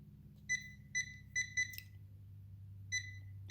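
A Pulse Dive metal detector fitted with an 8-inch coil gives about six short, bright beeps over a penny, quiet and evenly spaced, above a low steady hum.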